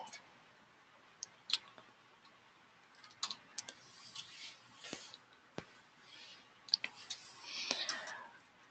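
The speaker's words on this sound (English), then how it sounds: "I'm just going to type in" Someone types on a computer keyboard while filling in an address field on an online application form: scattered, quiet key clicks and taps close by, uneven in rhythm and bunched toward the end.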